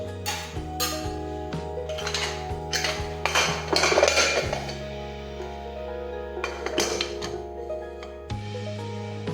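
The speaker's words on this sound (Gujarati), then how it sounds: "હવે આપણે કુકરનું ઢાંકણ છે તે બંધ કરી દઈશું" Metal clanks and clinks of a pressure cooker lid being handled and shut while cooking a green cowpea (lili choli) vegetable dish in a home kitchen, several sharp knocks with ringing, resonant metallic tones.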